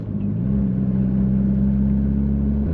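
A Mitsubishi Evo X with a new turbo hums at a steady, moderately loud engine tone from inside the car, holding a fairly constant pitch with a low rumble, no voices.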